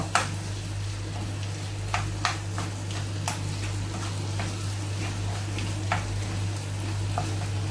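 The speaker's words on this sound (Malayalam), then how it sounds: "നന്നായിട്ട് ഇളക്കി ചേർത്ത് കൊടുക്കാം നന്നായിട്ട് ഇളക്കി ചേർത്ത് കൊടുക്കുക" Chicken perattu roasting in a pan over high flame, with a steady sizzling fry underneath and sharp scrapes and clicks of a spoon stirring at irregular intervals, close and moderately loud, with no talking.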